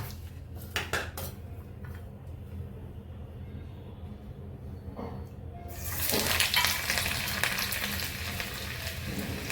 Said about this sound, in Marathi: लसूण चांगला खरपूस होईपर्यंत परतून घ्यायचं.